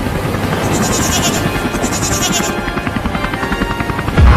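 A cartoon helicopter flies with a continuous whirring buzz and pulsing rotor flutter, loud and close, mixed with goat-like bleating sounds, ending in a sudden low thump.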